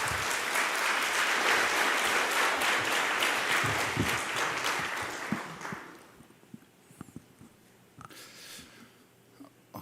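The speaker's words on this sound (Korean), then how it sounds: "우리 목사님 나오실 때 한번 격려의 박수로 맞이하겠습니다" A church congregation claps to welcome the pastor at a Sunday service, a full burst of applause for about five seconds that fades away, leaving quiet room sound with a few scattered knocks and shuffles.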